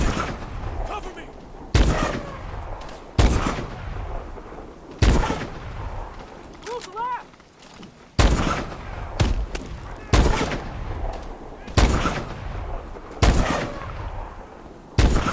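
Loud game gunfire bursts in a firefight during a plane hijacking, sharp blasts at roughly one-to-two-second intervals with a sniper rifle in use, with brief shouted voices between shots.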